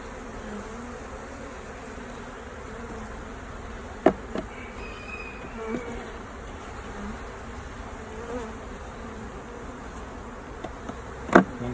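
Honey bees drone steadily around a hive that lost its queen and raised a new one, a constant close buzzing hum with a few faint knocks and clicks from handling, no talking.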